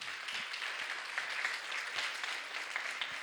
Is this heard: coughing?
no